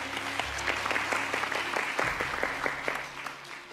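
An audience at a televised Korean Christian school-principal competition final applauds the winner, a steady burst of many hands clapping fairly close with a few sharper claps standing out, no voices.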